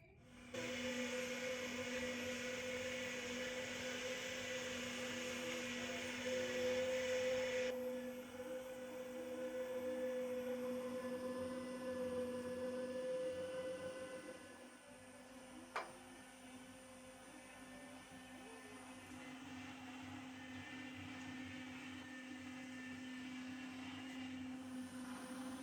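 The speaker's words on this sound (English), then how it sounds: "I grind meat and fat that left" An electric meat grinder works through leftover meat and fat in a Ukrainian village kitchen, giving off a steady motor whine and hum for about half a minute. The pitch shifts as the load changes, with no talking.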